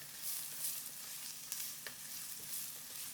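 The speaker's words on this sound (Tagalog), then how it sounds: "Next, maggisa tayo ng sibuyas." Chopped onion with a whole head of garlic sautéing in a pan for a meaty red sauce, giving a soft, even sizzle with a few faint stirring ticks. The sound is quiet and continuous.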